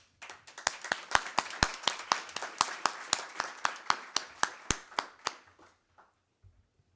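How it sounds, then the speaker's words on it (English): A few people clap at a board meeting, a sparse, thin run of distinct hand claps in a steady rhythm that thins out and stops, with little else around it. "I'd like to give a round of applause for Mr. Jackson"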